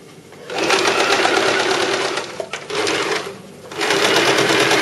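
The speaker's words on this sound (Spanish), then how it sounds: "Ahora tenemos que coser todo menos un trocito para darle la vuelta." A sewing machine stitches fabric for a flamenco-style party bag with a fast, buzzing whir in close bursts, running for about two seconds, pausing briefly, then running again, with no talk over it.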